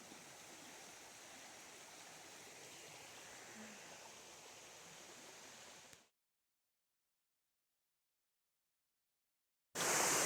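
Flowing creek water beside a campsite, a soft continuous rushing hiss that stops abruptly partway, followed by silence, then a brief louder burst at the end.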